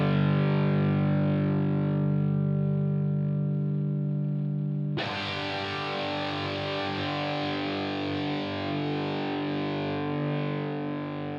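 Electric guitar through a Line 6 Helix amp block with the power amp section adding saturation, a sustained distorted chord ringing, then a fresh strike halfway with a brighter, fuller crunch, loud and alone.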